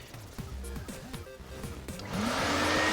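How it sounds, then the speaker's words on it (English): Shop vac running steadily close up while vacuuming out the interior of a Subaru WRX, a continuous broadband whine with shifting suction tones that rises louder and brighter near the end. "So what we're going to do is get the shop vac out."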